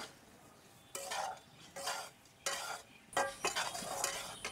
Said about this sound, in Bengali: গ্যাসটা একদম লোতে রাখতে হবে আর কন্টিনিউ এভাবে নাড়তে হবে